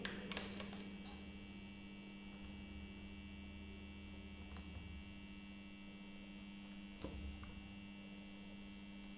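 High-voltage impulse test machine for an 11kV porcelain pin insulator humming steadily, a faint constant electrical drone with a few small clicks and taps, no voices.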